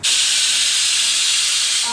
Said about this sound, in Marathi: कुकर एकीकडे लावलाय